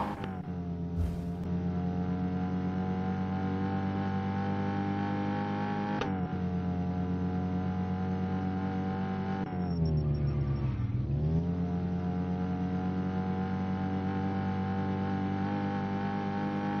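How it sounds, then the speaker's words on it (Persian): A car in an Iranian driving video game runs with a steady synthetic engine drone that rises and dips in pitch as it accelerates and shifts. No one speaks, and the engine tone stays even and continuous. "خب سوار ماشین میشم، برم یه دور بزنم"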